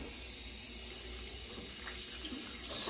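Tap running lukewarm water into a bathroom sink, a steady soft hiss and splash at close range with no talk over it, growing slightly louder at the end.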